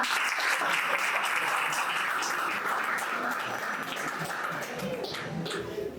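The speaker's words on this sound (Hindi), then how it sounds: "इस प्रशंसनीय संगीतमय प्रस्तुति के लिए एक बार फिर से जोरदार तालियां।" An audience at a Republic Day celebration at NDDA claps steadily after a musical performance, a dense, even burst of applause that carries on for several seconds with no talking over it.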